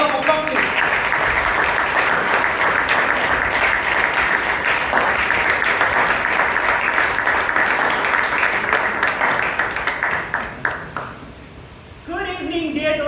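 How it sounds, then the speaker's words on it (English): Steady, dense audience applause at a Toastmasters club meeting in Bangalore, sustained for about ten seconds before fading, then a voice begins speaking near the end. "A big round of applause, please."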